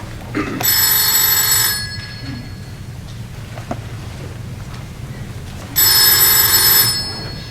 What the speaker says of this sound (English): now my phone keeps ringing